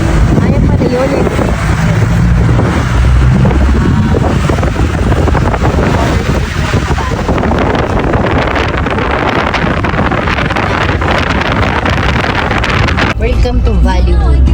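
Strong wind roars and buffets the microphone continuously, loud and close, with voices talking underneath, in Baguio, Philippines.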